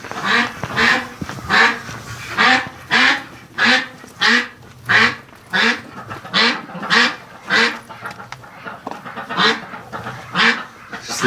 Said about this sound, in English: But we got some ducks inside. Looks like some geese.